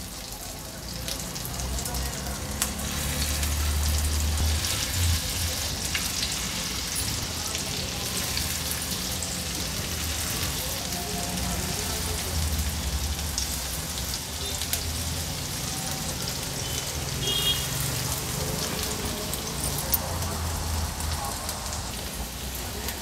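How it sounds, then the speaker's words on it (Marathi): Mushroom seekh kebabs frying in a little oil over a low flame: a dense, even sizzle and crackle runs steadily throughout, close and fairly loud. "हे बघा एक एक करून सर्व कबाब्स आपण ह्या तेलामध्ये सोडले"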